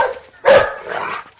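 A dog gives a single short, sharp bark close by, followed by a brief rougher trailing yelp, against a quiet background.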